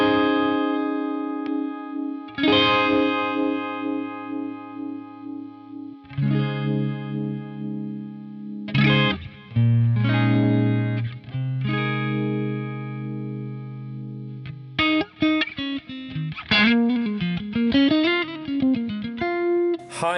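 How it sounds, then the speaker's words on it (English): Strymon Ultraviolet vibe pedal at a mid bias setting puts a lurching, lopsided, whooshy warble on sustained guitar chords, then on a faster picked melodic run near the end, with no talk. "the different rise and fall times in the lamp result in the lurching, lopsided and whooshy warble"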